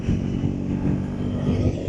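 A Triumph Speed 400 motorcycle on the move, its engine a steady low rumble close to the rider with wind and road noise underneath, holding an even pace for the whole stretch without talk.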